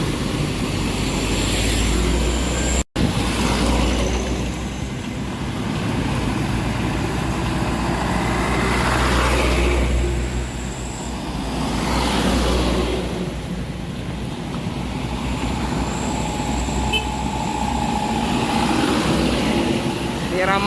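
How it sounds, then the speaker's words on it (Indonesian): Heavy engine rumble from busy truck traffic on the East Sumatra highway near Palembang, a continuous low drone with slow swells as vehicles pass, a brief cut partway through, and people talking over it. "Ini ada truk-truk ramai."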